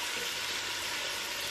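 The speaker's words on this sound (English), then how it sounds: "You want to hear that nice sizzle." Steady broadband hiss of vegetables frying in hot oil for wild garlic and nettle soup, a continuous close sizzle with no talking.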